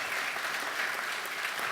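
Conference audience applauding speaker Augie Byllott as he takes the stage at a session on raising private capital; dense, even clapping from a large crowd, fairly distant and steady throughout the short burst.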